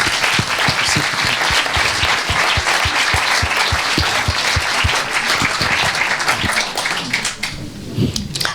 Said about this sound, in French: il faut bien l'applaudir